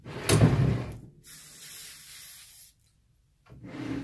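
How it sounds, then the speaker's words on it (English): A hissing aerosol can of spray glue runs steadily for a couple of seconds after a brief handling clatter, then stops, followed by a short rustle, during chair-seat upholstery. "Then just spray a little bit of glue."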